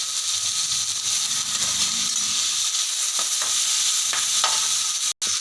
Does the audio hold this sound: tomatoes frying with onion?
yes